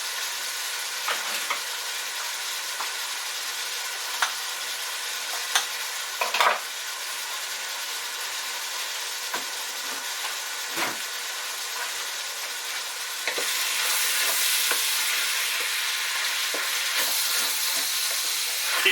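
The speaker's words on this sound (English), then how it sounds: "Keep that stirring. You want to get every little bit of that meat brown before we continue." Beef and pork mince browns in a hot pan with a steady frying sizzle, stirred throughout with scattered scraping knocks from the utensil, and the hiss thickens and grows louder toward the end; no one speaks.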